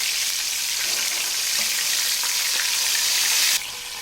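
Chicken cutlets fry in avocado oil and are flipped, giving a loud, dense, continuous sizzle close by that drops suddenly in level near the end, with no one speaking.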